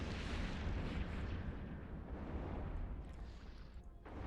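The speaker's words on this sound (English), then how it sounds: "We're also seeing the gorgeous missile effects in the game now, with all the missiles coming in from the Widow." Missile impacts in the EVE Online space battle, with missiles raining in from a Widow: a dense, continuous rumbling roar of blasts, loud and sustained, with no talk over it.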